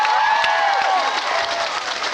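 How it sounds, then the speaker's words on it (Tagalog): A congregation at a Sunday church service applauds in a brief, dense burst of clapping, with a voice speaking over it. "Yung mga pumapalakpak na yun,"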